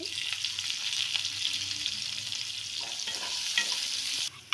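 Bay leaf, panch phoron and onion frying in a pan for a Bengali dumur dalna, with a steady, close sizzle that runs on without a break and ends in a couple of brief clatters.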